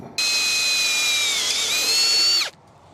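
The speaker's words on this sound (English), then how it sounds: "If we drill it here, we can do whatever, position it however we want." A power drill whirs steadily at high pitch for a couple of seconds, close up, with a slight dip in speed before spinning down and stopping.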